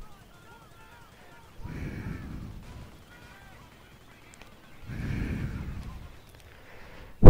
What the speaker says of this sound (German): Und wenn da jetzt keine Artillerie als nächstes kommt, da würde ich mich jetzt wundern.